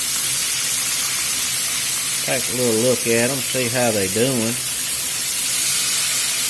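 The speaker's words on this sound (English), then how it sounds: "We've been frying here about 5 or 6 minutes." Chicken wings fry in hot oil with a steady, loud broadband sizzle throughout, while someone speaks briefly over it partway through.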